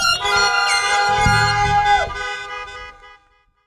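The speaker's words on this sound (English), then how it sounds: "Please honk your horns to toast the graduating class of 2020." Car horns sound together to salute a graduating school class of 2020 at a community school event, a dense, sustained blare of overlapping honks with shifting pitches that fades out over the final second.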